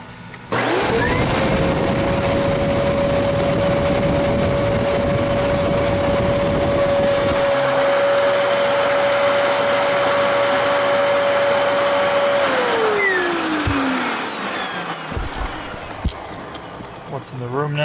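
Dyson DC33 upright vacuum, freshly serviced with a new filter and clean cyclone, switches on and runs at a steady whining drone, then winds down as it shuts off near the end.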